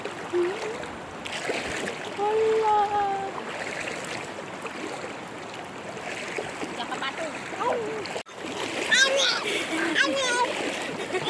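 River water flows and splashes continuously around a child in the current, with a few louder splashes, while children and adults talk throughout.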